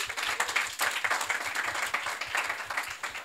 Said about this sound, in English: Let's do a round of applause again.